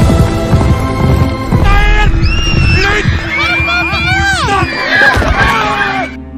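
A stallion in a film scene whinnies with rising and falling high cries over a loud, busy background of crowd noise, hoofbeats and a dense music-like bed.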